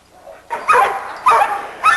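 A small old dog gives short, close barks and yips in three bursts, spaced about half a second apart, with no talking over them.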